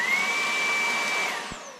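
A Ryobi stick vacuum runs with its wand removed, giving a steady close whooshing motor roar with a thin high whine on top, then a soft thump near the end.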